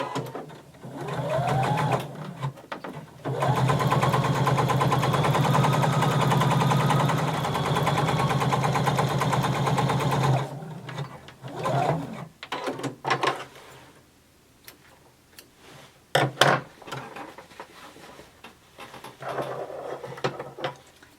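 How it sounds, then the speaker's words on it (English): Sewing machine running in a steady continuous burst while topstitching a denim seam 1/8 inch from the edge, loud and close, followed by shorter start-stop runs and handling clatter. "So I'm going to top stitch 1/8 of an inch away from my seam."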